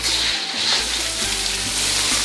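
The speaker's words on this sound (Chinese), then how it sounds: "洗干净的五花肉先把它下锅炸出油" Washed pork belly fries in hot oil in a heated wok, giving off a loud, continuous close-up sizzle over a low steady hum.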